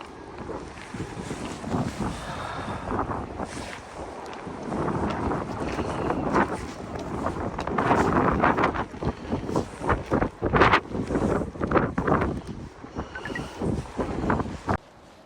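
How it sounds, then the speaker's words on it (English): Strong, gusty wind roars and buffets the microphone outdoors during a high-wind day, rising and surging in loud bursts over a steady rushing background. "It is very windy."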